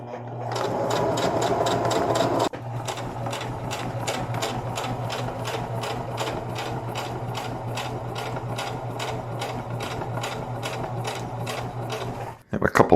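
A sewing machine runs steadily stitching a rolled hem in a converted truck camper, its rapid even needle rhythm loud and close, with a brief pause early on before it resumes and continues to a stop; a person talks over it.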